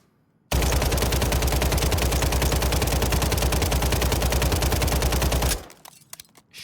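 An SMG in Warzone fires one long, rapid, sustained automatic burst, loud and close, then stops abruptly and leaves a few faint clicks and rattles.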